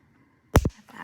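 Wire cutters snip off excess wire while a gold charm bracelet is being made: one sharp, close snip with a short click after it, in a quiet room.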